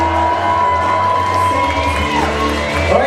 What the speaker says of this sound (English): a big cheer for your bride and groom.